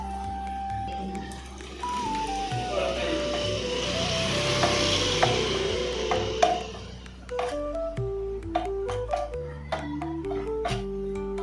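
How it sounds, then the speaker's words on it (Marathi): Mustard seeds and dal spluttering and crackling in hot oil for Bhokar pickle: a steady sizzle with scattered sharp pops, close by, partly under a voice talking. "बघा राई डाळ कशा पद्धतीने फुलते"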